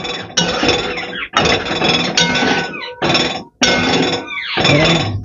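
Bottle gourd halwa being stirred after milk and sugar go in, a spoon scraping and clinking against the metal pot in loud, busy bursts with brief pauses between them.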